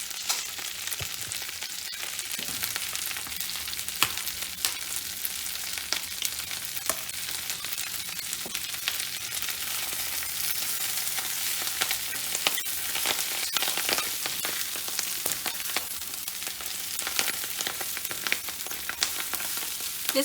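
Kale sautéing in a hot pan with chili flakes, black pepper and salt, a steady close sizzle and crackle with occasional stirring scrapes, continuous and moderately loud, with no talk.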